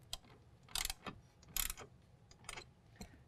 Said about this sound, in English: Then take a 9/16 wrench or ratchet and go ahead and tighten that down.